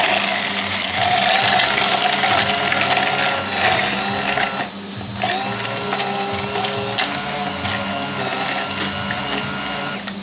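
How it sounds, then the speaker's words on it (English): A motorized hand blender whirs steadily and loudly, emulsifying cream with dark chocolate for ganache, with a brief pause in the middle before the buzzing resumes. "Now with the help of the hand blender,"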